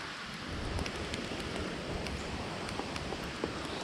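Steady rain falls outdoors beside a swimming pool, a dense, even patter with occasional sharper drops striking nearby surfaces, continuous and moderately close with no voices.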